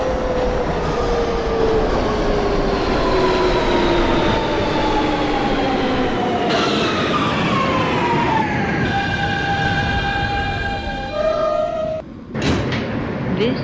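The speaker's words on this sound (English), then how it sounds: "This is a Brooklyn-bound G train." An R160A/B subway train on the G line runs in the OpenBVE train simulator game, its electric motors whining loudly and steadily as the pitch slides down, then shifts in steps near the end.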